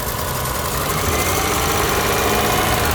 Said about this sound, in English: Give it a little throttle.